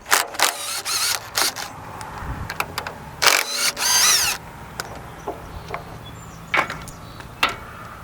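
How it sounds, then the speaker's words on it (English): A small cordless battery-powered impact driver takes nuts off a Dyna cutting system chainsaw attachment, firing in several short, loud rattling bursts of hammering separated by pauses and faint handling clicks. "Now I got a little cordless battery operated impact here. I'm going to take these nuts off."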